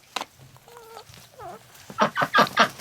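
Chickens cluck loudly in a coop on a bitterly cold day, with a few scattered calls followed by a burst of four or five strong, rhythmic squawks close by.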